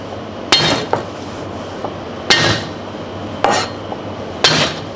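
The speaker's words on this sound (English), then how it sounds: "this one fried garlic we smash it" Fried garlic being smashed in a Thai kitchen, four sharp, close knocks spaced a second or more apart, each with a brief clattery ring, alone without talk.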